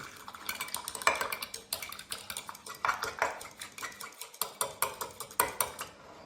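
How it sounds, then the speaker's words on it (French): A spoon clinks rhythmically against a glass while stirring a mixed cocktail, a steady run of bright taps close by with no talking. "Alors, on va mélanger tout ça."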